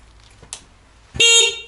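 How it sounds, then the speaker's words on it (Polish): Car horn honking once in a short, loud, near blast after a small click. "I klakson jest."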